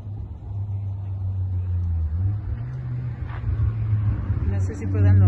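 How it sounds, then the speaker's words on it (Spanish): City traffic at night heard from a high lookout, a low steady rumble of cars driving along the streets below, with a slight swell near the end and a voice talking faintly over it. "Y vamos a escuchar muchos sonidos de autos."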